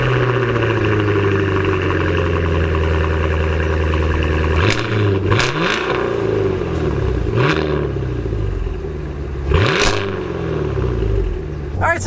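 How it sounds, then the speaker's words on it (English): A 2023 Cadillac Escalade-V's supercharged engine settles into a loud, deep, steady idle close by, with a few sharp revs blipping through the rumble. "hit the engine start button, and it roars to life"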